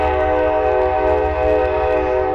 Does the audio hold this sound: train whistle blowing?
yes